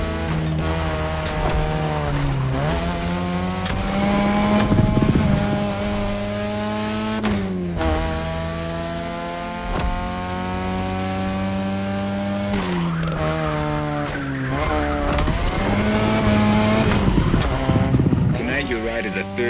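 A third-generation 2002 Mazda RX-7 with a rotary engine drifts along a touge road in The Crew Motorfest, its high-revving engine steady and loud throughout, with tire squeal on the slides and music or voices layered over it.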